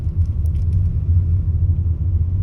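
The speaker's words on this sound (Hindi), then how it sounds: "अभी सिटी ट्रैफिक मिल रहा है" City road traffic in Hyderabad, a steady loud low rumble of car engines and passing vehicles, continuous throughout with no voices.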